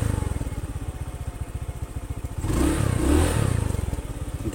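A Honda Scoopy scooter engine runs close by with a fast, steady, pulsing idle. Around the middle it gives a brief rev that rises and falls, then it settles back to the chugging idle.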